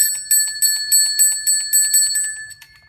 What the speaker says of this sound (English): So this coil is for the bell.